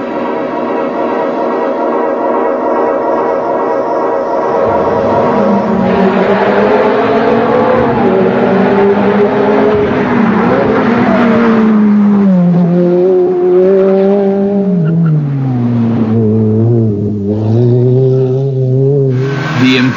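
A Ferrari F430 sports car drives hard and accelerates. The loud, rasping engine climbs through the revs, shifts and climbs again over several gears, with a sustained roar close by.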